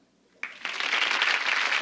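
Studio audience applause on a TV talk show set: after near-silence, a crowd abruptly starts clapping and quickly swells into loud, sustained, even applause.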